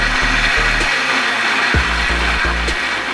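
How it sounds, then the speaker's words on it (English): Kitchen blender whirring loudly as it purees pepper, tomato and onion for Nigerian jollof rice, a steady close motor drone with a few short pulses and restarts. "I put them in the blender, so I'm going to blend everything together"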